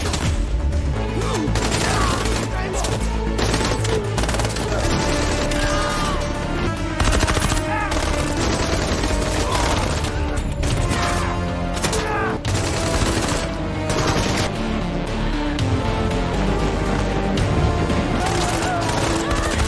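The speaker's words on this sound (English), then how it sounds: "A gunfight breaks out, and they manage to defeat the special forces." Film gunfight in which a former special forces timberman and his partner battle special forces troops: dense, nearly continuous bursts of gunfire and impacts run loud through the whole stretch, layered with score and effects.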